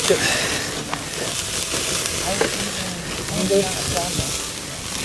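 Steaks sizzling steadily on a camping grill in a national forest, a continuous close frying hiss with small pops and crackles and faint voices in the background.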